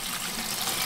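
A tap aboard a narrowboat gushing with running water, a steady close hiss and splash that continues without a break.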